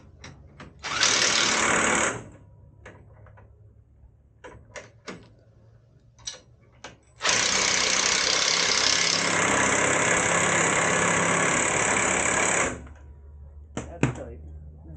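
An impact or power driver runs bolts tight on a Chevy Silverado front bumper: a short whirring burst, then a longer sustained run, close and loud, with scattered clicks and tool handling noises in between.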